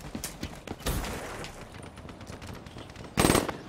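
Gunfire in Call of Duty Black Ops 3, a few quick bursts of rapid shots, close and moderately loud, with a louder burst near the end and no talking.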